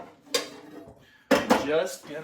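Metal pans clank and scrape against each other twice, with a quiet pause between the bursts.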